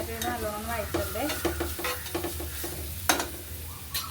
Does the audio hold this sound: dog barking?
no